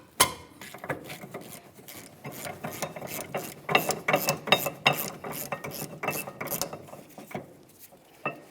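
A ratchet works 14mm caliper bracket bolts loose on a 2003-2007 Honda Accord's rear brake knuckle, giving close, rapid bursts of metallic clicking in uneven runs, with brief pauses and faint tool clinks between strokes.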